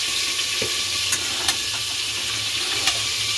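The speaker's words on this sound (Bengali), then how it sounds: "একদিকে কাঁচকলা ভাজা হচ্ছে আর একদিকে মাছ ভাজা।" Green banana slices and prawns frying in hot oil in a pan, a steady bright sizzle throughout with a few faint clinks and stirring taps, close and continuous with no voices.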